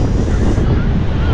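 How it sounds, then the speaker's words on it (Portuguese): Strong wind blows into the microphone on a beach at Guarujá at night, a loud, continuous low rumbling buffet with the surf mixed in, and no talk. "Tem muito barulho de vento aí."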